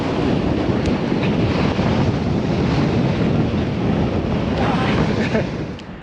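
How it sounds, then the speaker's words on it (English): Strong mountain wind in the Andes pounds the microphone with a constant, loud, close roaring rumble that holds steady throughout and eases slightly at the end. "The wind was just so strong that we just couldn't make a good quality video."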